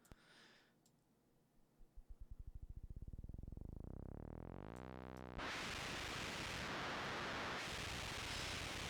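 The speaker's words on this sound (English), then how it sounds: "for certain values of the filter parameters, you'll end up with white noise, surprisingly" Rapid electronic clicks speed up into a rising buzzing tone, then give way abruptly to a loud, steady wash of white noise from a filter in Softube Modular.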